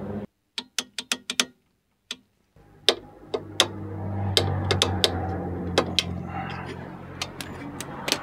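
Ratcheting wrench clicking as it tightens the rear brake caliper guide bolts on a BMW E39, a burst of sharp close clicks, a pause, then more scattered clicks over a low hum.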